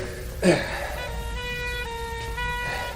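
Ambulance siren in a radio drama wails steadily at a moderate distance over a low vehicle rumble, following a brief sharp knock near the start.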